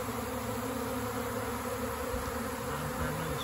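A honeybee swarm buzzes in a dense, continuous drone, close and steady, with a constant hum and no voices.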